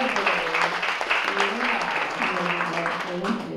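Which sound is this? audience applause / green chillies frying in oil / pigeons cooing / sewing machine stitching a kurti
audience applause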